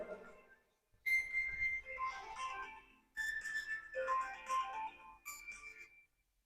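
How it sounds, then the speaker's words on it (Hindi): A mobile phone ringtone sounds during a lecture, a whistled melodic tune in three bursts separated by short gaps, moderately faint in a quiet room. "एक मिनट फोन आ रहा है मैं उसको देख लेता हूं।"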